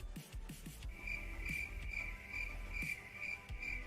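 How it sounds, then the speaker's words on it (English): Crickets chirp in a steady high-pitched trill inside a video game, with pulses repeating over low rumbling game sounds and thuds. The chirping stays faint-to-moderate and constant throughout, with no voices. "Why crickets?"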